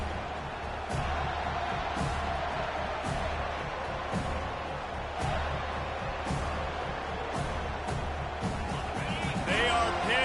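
A stadium crowd at an Oklahoma vs Florida State college football game keeps up a continuous roar under a commentator's voice, with some sharp claps and bangs scattered through it.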